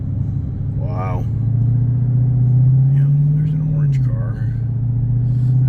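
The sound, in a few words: Dodge Challenger Redeye Wide Body engine rumble while driving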